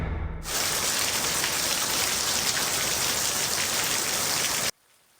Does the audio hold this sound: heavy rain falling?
yes